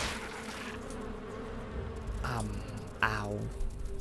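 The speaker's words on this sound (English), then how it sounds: "Ah, bees! Oh, great." A swarm of attacking bees in the video game Ark Survival Evolved gives off a continuous buzzing drone, with a voice breaking in over it now and then.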